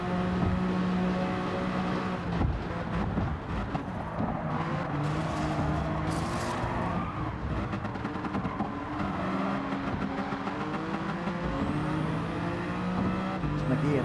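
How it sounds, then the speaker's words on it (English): Race car engines in the Gran Turismo 7 video game, a continuous revving roar with rising and falling gear pitches and another car passing close by, under a voice talking. "Listening to Jonesy's car, not my own"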